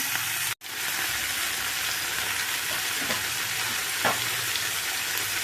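Vegetables for sambar, including brinjal, carrot and onion, sauté in a pan with a steady, close frying sizzle that fills the clip, broken by one brief dropout and a small clatter near the end.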